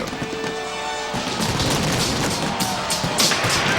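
Fireworks burst over Veterans Stadium in Philadelphia during a show set to music, a dense, loud barrage of booms and crackles filling the air continuously with sharper cracks near the end.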